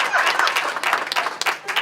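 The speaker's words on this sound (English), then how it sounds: "If you're happy and you know it, clap your hands" Residents and staff at a staff appreciation gathering clapping hands together, a brief burst of uneven clapping with a voice or two mixed in.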